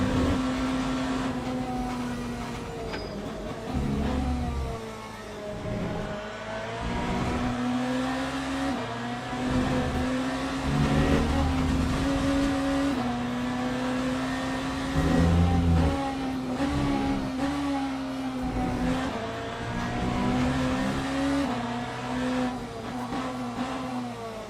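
GT race cars at Imola in Le Mans Ultimate, a steady droning engine note that rises and falls as cars pass and shift, layered and continuous throughout with no talking.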